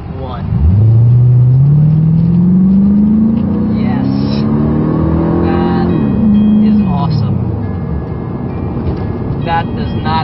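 An automatic-transmission car launching hard from a standstill on a road, engine note rising steeply through a long pull, then dropping at a shift and climbing again, loud and close from inside the cabin.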